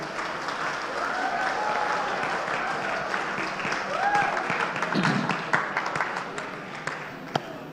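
A round of applause from an audience at a talk on AI-driven law enforcement, steady crowd clapping with some faint voices and whoops mixed in, fading slightly toward the end.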